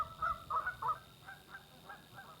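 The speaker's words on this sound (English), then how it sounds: "The attack of the geese on Maggie." Geese in a park honk in a quick burst of several loud, nasal calls, then trail off into fainter scattered honks.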